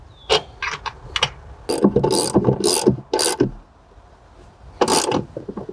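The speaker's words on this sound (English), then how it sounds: "then you just go ahead and tighten them down with a wrench" Bolts on a motorcycle box system and suspension base plate being tightened with a wrench: a run of close, irregular ratcheting clicks and metallic rattles in bursts, with short pauses between.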